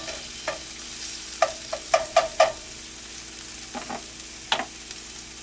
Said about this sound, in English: Sauteed artichoke.